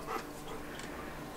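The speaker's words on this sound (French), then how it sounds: "Et ce chien a peur. Donc il pleure, il veut le récupérer." A frightened dog whimpering indoors, a few faint high-pitched whines over steady room noise, brief and soft with no talking.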